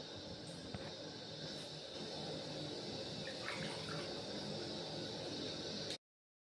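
Leafy greens being washed in water at home, a steady run of splashing and trickling water close by with faint drips, continuous for about six seconds before cutting to silence.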